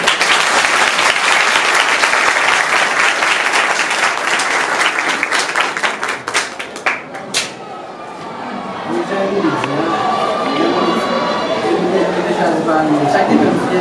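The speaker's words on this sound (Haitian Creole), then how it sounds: "on applaudit par un" An audience at a school gathering in Grand Ravine breaks into dense, loud clapping that lasts several seconds, then thins out into crowd chatter and voices talking.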